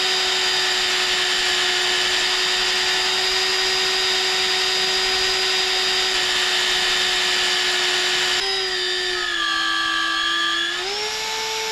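A magnetic drill bores into steel on a skid steer snowplow build, its steady high-pitched motor whine running loud and alone for most of the stretch, then dropping in pitch near the end as the bit slows under load.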